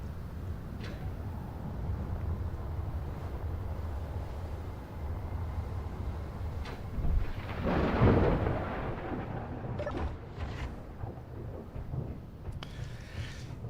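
Thunderstorm in the video game Space Engineers: steady rain-like hiss under a low rumble of thunder that swells and peaks midway, then fades back into the storm noise, with no speech.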